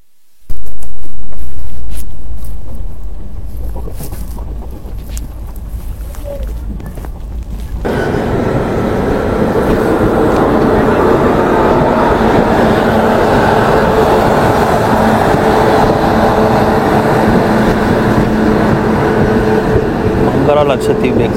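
The Mangala Lakshadweep Express rolls past with an abrupt loud onset, then a sustained heavy rumble and rattle of rail cars that stays strong to the end.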